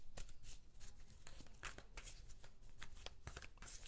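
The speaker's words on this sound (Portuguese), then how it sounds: "ele já é grande para embaralhar assim" Large tarot cards are riffled and shuffled by hand, a steady run of soft papery flicks and slaps at close range with no talking.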